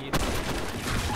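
Gunfire from the Blackshot game, a sharp shot cracking out near the start followed by a dense rattle of rapid fire, loud and close.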